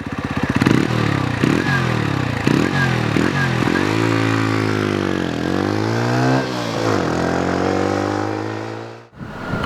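A 2022 Sinnis Outlaw 125 motorcycle pulls away on the road, revving in quick shifting bursts through the gears before settling into a steady, loud drone that fades sharply near the end.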